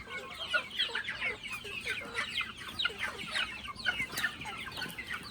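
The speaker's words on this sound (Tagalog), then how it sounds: "Mga native chicken." Native chickens on a small farm cluck and chatter continuously at a moderate distance, a busy overlapping flock murmur without any voices.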